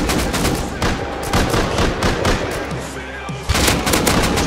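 Gunfire in the video game Rust during a large base raid, with dense, near-constant rapid shots and bursts layered over one another, and players calling out between volleys.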